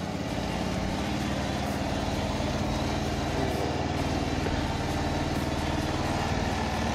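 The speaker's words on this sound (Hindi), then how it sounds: "अब आप लोग देख सकते हैं यहाँ पे एकदम बढ़िया हो चुकी है बाइक, सेल्फ से स्टार्ट होती है।" A restored motorcycle, electric-started and now idling near Shimla, gives a steady, close engine drone that holds at an even loudness throughout with no talk over it.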